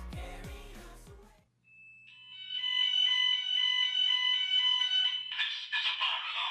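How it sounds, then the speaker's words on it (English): A Gent Vigilon fire alarm system sounds during a weekly test with a loud, steady electronic siren tone after a brief stretch of music, ending in a louder, harsher alarm burst. "This is a fire alarm."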